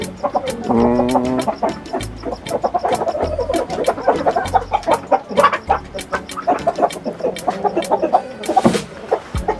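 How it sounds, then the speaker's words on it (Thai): Layer-breed hens, a white Rhode Island type, cluck and squawk steadily inside a coop, a dense overlapping chorus of close, fairly loud calls with a brief louder flutter near the end. "ก็ถือเป็นไก่พันไข่ อีกชนิดหนึ่งใช่ไหมครับ"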